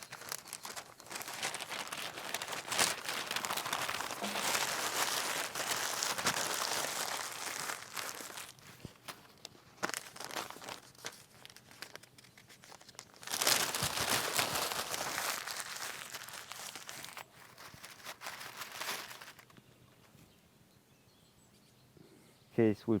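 Sheets of paper are crumpled into small balls to start a wood coal fire in a barbecue starter chimney, with steady crinkling and crunching in long bursts separated by brief pauses.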